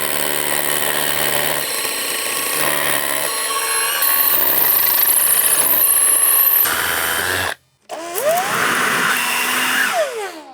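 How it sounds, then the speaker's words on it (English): A roto hammer bores a half-inch hole into a concrete slab for setting deck posts, a steady loud grinding drone that runs for several seconds, cuts out briefly, then resumes at full force. "now I'm going to drill a 1/2-inch hole with this roto hammer so I can put this bolt into the concrete"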